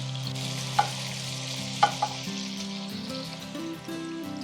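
Dutch meatballs sizzling as they brown in a frying pan, a steady close crackle of frying fat with a few sharp clinks of a utensil against the pan.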